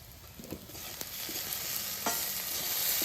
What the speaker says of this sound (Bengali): চচ্চড়িটা আমার বেশ সুন্দর করে ভাজা ভাজা হয়েছে না